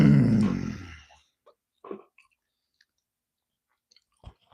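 Chocolate chip cookies being chewed close to the mic, a few soft wet crunching bites after a brief burst of murmured sound, quiet and sparse.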